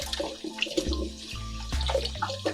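Water splashes and runs as kumquats are rinsed in a container, an irregular trickling and sloshing that is close and fairly quiet, with no talking.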